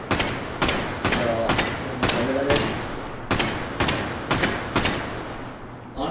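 Rapid gunshots from a gun with heavy recoil in the H3VR virtual reality game, about a dozen sharp, loud reports fired in uneven bursts with short gaps between them.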